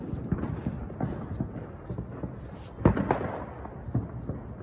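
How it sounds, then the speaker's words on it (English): Scattered pops and cracks of Fourth of July fireworks going off at a distance, with one sharper, louder burst among the irregular bangs. "I think there's more fireworks here."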